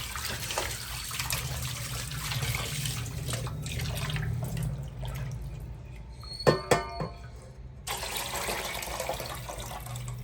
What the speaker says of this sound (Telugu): ఒక దాకలో వేసుకొని మళ్ళీ ఒకసారి కడుక్కొని